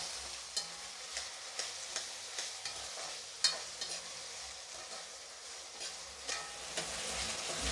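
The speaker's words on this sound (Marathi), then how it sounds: "आता त्याच्यामध्ये मी टोमॅटो टाकून घेते आणि टोमॅटो सुद्धा एकदम नरम करून घ्यायचा" Tomatoes and softened onions sautéing in a pan, a steady soft sizzle with frequent scraping stir strokes close by, no talk, for a hotel-style chicken dum biryani base.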